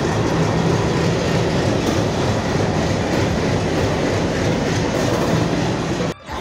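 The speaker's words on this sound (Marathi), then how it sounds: "आमची ट्रेन आली." A train pulling into Manmad railway station, a loud continuous rumble with clattering wheels that holds steady and cuts off abruptly near the end, no talking.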